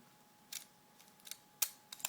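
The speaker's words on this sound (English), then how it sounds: "let me fire my shutter" Shutter of a 35mm film camera fired several times while loading film, giving sharp, close mechanical clicks spaced irregularly across a quiet room.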